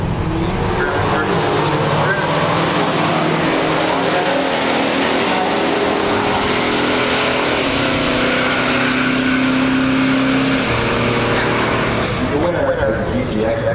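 A 1969 Pontiac GTO with Ram Air III engine and a 1968 Plymouth GTX in a pure stock quarter-mile drag race, loud continuous engine roar building and droning, with a commentator talking over it.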